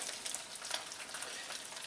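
Crab cakes, patted to about half an inch thick, sizzle steadily in a frying pan, a dense, continuous hiss and crackle of hot oil with small pops throughout and no voices.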